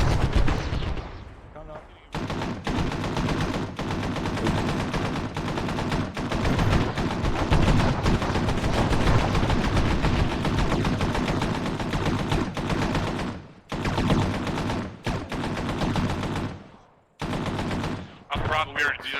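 Sustained automatic gunfire rattles in ARMA 3, dense machine-gun bursts pounding almost continuously with brief pauses and a few sharp cutoffs, loud and close, while a voice calls out briefly over the shooting.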